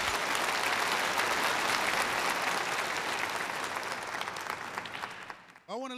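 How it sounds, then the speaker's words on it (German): Loud, dense applause from a large church audience, sustained and then fading toward the end before a voice begins speaking. "Gebt dem alten Mann eine Runde Applaus."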